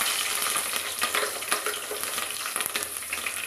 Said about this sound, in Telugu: ఆయిల్ హీట్ అయిందండి ఇప్పుడు పచ్చిమిర్చి